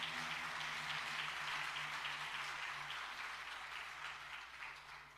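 A church congregation claps together during a Spanish-language sermon, a rapid, steady patter of many hands over a low sustained tone, fading slightly toward the end.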